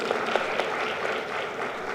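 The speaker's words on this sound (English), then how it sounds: "Clap for yourselves, please." Delegates at an Africa Industrialisation Week conference hall applaud, a soft, even wash of clapping from a large room lasting a couple of seconds with a few sharper claps standing out.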